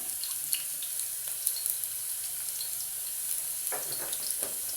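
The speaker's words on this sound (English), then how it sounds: "I'm going to be frying my onions here." Steady sizzling and crackling of onions frying in a pan for beef biryani, with occasional stirring clatter toward the end.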